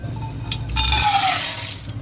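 Hot water poured into a vessel of rajma beans for soaking, a short close splash and gurgle that swells midway then fades into a trickle.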